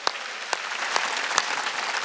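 A church congregation at a Wednesday worship service claps, a dense, lively burst of applause with a few sharper claps standing out, close and continuous for a couple of seconds.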